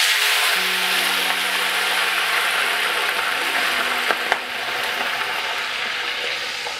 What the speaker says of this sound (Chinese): 把小龙虾下锅炸一下，油温烧到七成热